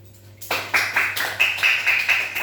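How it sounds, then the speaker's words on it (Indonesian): Classroom of pupils clapping together in a crisp, rhythmic pattern, about eight sharp unison claps at an even beat after a quiet start, close and fairly loud. "Tepuk tangan dulu dong"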